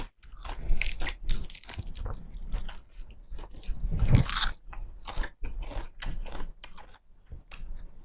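Someone bites and chews Thai pounded cucumber salad (tam taeng) close to the microphone, producing repeated wet crunches in an uneven rhythm, with no talking.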